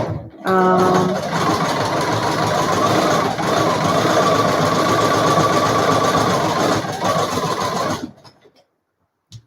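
A sewing machine runs a wide stitch on a fabric mask, its motor humming loudly and steadily for several seconds before stopping abruptly.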